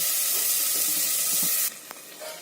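Malabar spinach seeds sizzle steadily in a pan over a low gas flame, a dense continuous frying hiss that cuts off abruptly partway through, leaving a quieter background with a faint clink.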